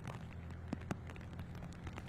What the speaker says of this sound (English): it's not raining quite as hard there